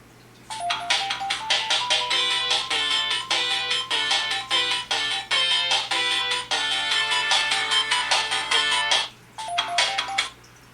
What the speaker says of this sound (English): Tom has Green Hill set as his ringtone